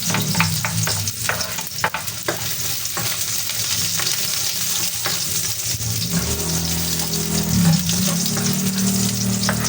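Garlic sautés in hot oil in a pan, a loud, dense sizzle with sharp spatula scrapes and stirring knocks early on, the frying roar swelling slightly near the end.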